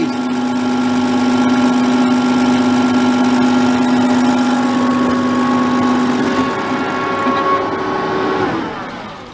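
Diesel engine running close up while its fuel rack is advanced, a loud steady hum with a strong tonal whine that shifts and fades near the end as the engine note changes.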